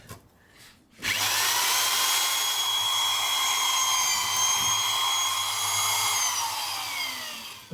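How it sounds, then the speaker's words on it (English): Power drill boring through a piece of plywood, bowing under pressure while making a copper pipe shower light for a campervan; a steady loud whine starts abruptly after a quiet second and runs continuously, easing off near the end. "The drill has ripped it through."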